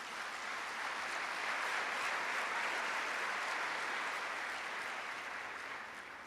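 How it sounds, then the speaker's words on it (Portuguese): A church congregation at a Sunday service applauding, dense sustained clapping that fills the room at a moderate distance, steady throughout without talking. "Vamos dar um aplauso a Jesus?"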